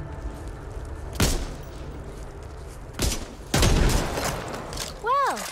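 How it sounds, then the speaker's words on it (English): Gunfire in the Back 4 Blood video game: a few separate loud bursts of shots, spaced seconds apart over a steady background of game ambience. "Watch where you're shooting!"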